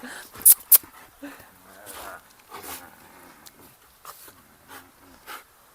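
A dog whimpering softly in short, faint whines and snuffles close by, with a couple of sharp clicks near the start and someone speaking quietly.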